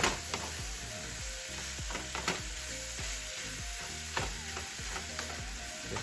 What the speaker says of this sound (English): once the onions get sauteed and brown, we're just throwing in the ground beef. We're gonna brown that.